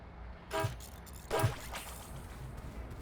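Two short car horn honks from a red Ford F-150 in the driving game Keep Driving, spaced about a second apart, fairly faint over a low steady engine-like background.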